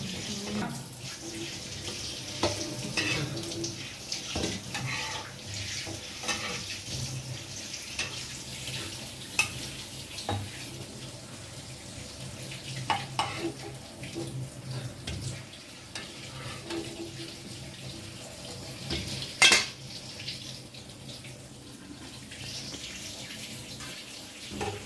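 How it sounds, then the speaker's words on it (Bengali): Potato-greens pakoras fry in hot oil with a steady, watery sizzle and occasional stirring clinks and scrapes, continuous and close with no voices. "এখানে বাকি যে পকোড়াগুলো ছিল ওগুলো ভাজা হচ্ছে"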